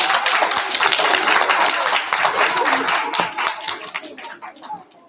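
Kindergarten students at a school awards assembly get a loud burst of clapping from the audience, dense and sustained, then thinning and fading toward the end.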